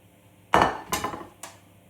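Three sharp metallic clinks of a utensil against a pan while cheese is stirred into a custard mixture for a veggie Greek shepherd's pie, close and spaced apart, with no voices.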